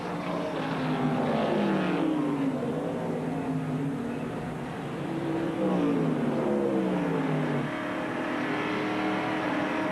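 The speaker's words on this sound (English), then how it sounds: "We're inside Tom Kendall's Family Channel Ford as he is following the cars running up front." Onboard a 1993 NASCAR Ford stock car at Watkins Glen: the engine drones loud and close, pitch climbing and dropping as it accelerates and shifts while following cars running near the front.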